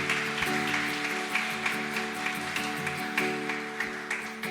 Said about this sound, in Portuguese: dá um forte aplauso ao Senhor Jesus.